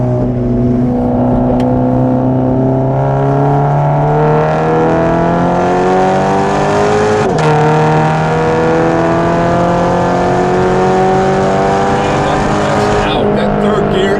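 A 2017 Toyota 86 860 Edition sports car engine revs up steadily with rising pitch, briefly dips at a gear change, then climbs again for a long pull in third gear before easing off.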